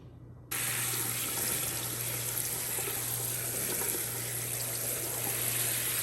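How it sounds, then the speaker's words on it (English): Tap water runs steadily over about three cups of poha (flattened rice) held in a strainer sieve at a kitchen sink. It starts with a sudden gush, then gives a continuous close rushing wash with faint trickling and no talking. "I have about 3 cups of poha here, flattened rice in a sort of a strainer sieve kind of thing because I need to wash it"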